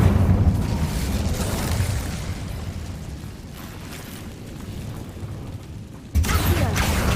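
A rumbling fiery burst from the Incendio fire spell in Hogwarts Legacy, a sustained low roar that fades over several seconds before a sharp new blast near the end.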